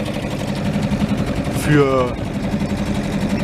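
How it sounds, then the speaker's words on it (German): A Suzuki DF6AS outboard motor on an inflatable boat runs gently to warm up, giving a steady low mechanical hum under a man's nearby speech. "Erstmal ganz gemütlich, um den Motor mal warm laufen zu lassen."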